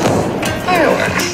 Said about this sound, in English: Fireworks. Beautiful.